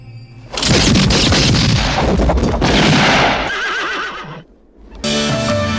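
A loud horse whinny rings out with shaky, wavering tones, mixed with heavy thumps and noise, then another whinny follows.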